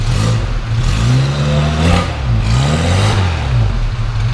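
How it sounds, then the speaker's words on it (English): Original engine of a 1971 Dodge-Mitsubishi Galant Colt revving up and down several times, a loud, close, steady rise-and-fall of engine pitch with no talk. "Go ahead and rev it up back here."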